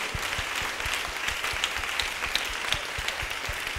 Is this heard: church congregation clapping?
yes